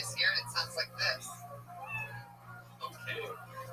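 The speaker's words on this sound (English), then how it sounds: "you know your minute's up when you hear the sound of a kitty." A tiny kitten meow sound effect marks that time is up: several quick, high meows in succession, then softer ones, with a person talking alongside.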